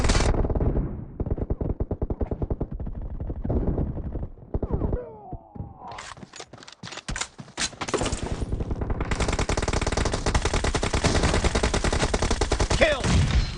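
Rapid bursts of automatic gunfire from PUBG Mobile, a battle-royale shooter, rattle almost nonstop, with a brief lull midway before dense sustained firing resumes, loud and close throughout.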